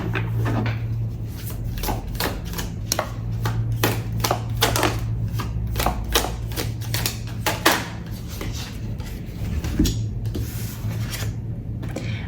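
Tarot cards being shuffled and drawn, a steady run of crisp, papery flicks and clicks in quick irregular bursts over a low constant hum, close and moderately loud, with no talking.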